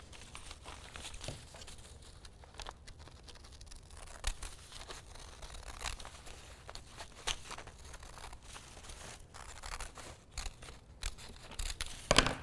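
Quiet, close snipping and rustling as scissors trim fabric for an upcycled flutter-sleeve tee, with irregular soft cuts and handling noises scattered throughout, no talking.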